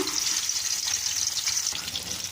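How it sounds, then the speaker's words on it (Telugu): Prawns dropped into hot oil while frying for prawn dum biryani, giving a loud, steady hiss of sizzling that holds evenly from start to end. "ఆయిల్లోకి ఫ్రాన్స్ అయితే వేసేసుకున్నానండి"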